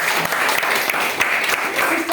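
Audience applause at a talk on DXN direct selling: a dense, steady burst of many hands clapping at once for a couple of seconds.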